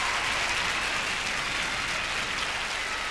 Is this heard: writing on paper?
no